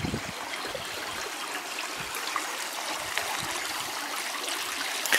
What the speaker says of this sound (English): Little river outside the house, or outside, past, over the road, the stream.